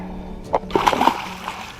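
A released catfish splashes into lake water close by, with a couple of quick wet slaps followed by brief sloshing and gurgling that fades.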